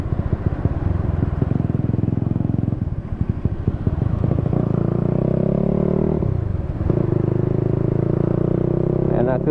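A Supra motorcycle with a Daytona engine running on Shell Advance oil throbs loudly while riding, its pitch dropping and then climbing again around a gear change, with a voice over the engine.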